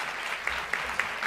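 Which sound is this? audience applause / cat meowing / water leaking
audience applause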